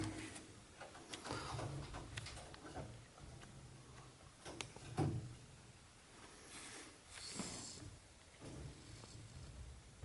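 Domestic pigeons, roller and Rickme breeds, cooing softly inside a breeding loft, with low repeated coos and faint shuffling and scattered clicks over a quiet room ambience, no talking.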